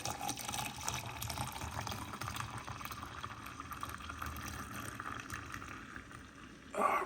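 Coffee runs into a cup in one long continuous pour, a steady close liquid trickle at moderate level, ending in a brief louder clatter.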